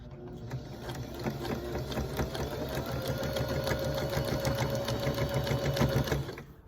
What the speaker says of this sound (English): I'm going to take it to the sewing machine, and I'm going to start sewing a 1/4 inch seam